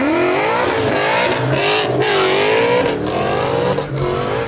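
A boosted Gen 1 Ford Coyote V8 making 716 horsepower on stock internals with a Lund tune revs hard under acceleration, a loud, continuous, rising engine roar close by with no talking.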